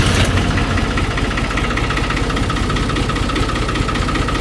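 A Long 350 farm tractor engine runs at a loud, close, steady idle with an even rhythmic chug and a rough vibrating rumble throughout.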